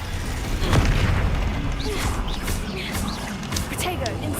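Spell blasts from Hogwarts Legacy combat, with booming explosions and crashing impacts scattered throughout, layered over dense game noise and some shouted spell voices.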